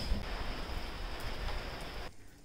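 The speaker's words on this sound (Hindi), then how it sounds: "अभी बाहर ही अभी भी बारिश हो रहा है, बट अभी हल्का हल्का सा बारिश हो रहा है" Light rain falling steadily outdoors under dark clouds, a soft continuous hiss of drops that cuts off near the end.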